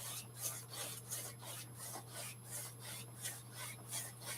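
A small paintbrush scrubs paint onto canvas in a crisscross motion, giving soft, rhythmic rasping strokes, steady and close, with no talking.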